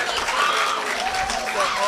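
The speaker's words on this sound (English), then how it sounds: "Clap the lady" An audience at a culinary arts symposium and open house applauds in a steady, dense patter of clapping, with a speaker talking over it throughout.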